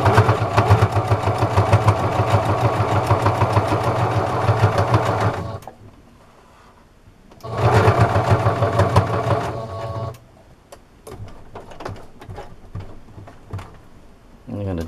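Close, loud bursts of a sewing machine double stitching a homemade fabric dish washing sponge: two long runs of rapid needle chatter with a quiet pause between, followed by softer handling clicks.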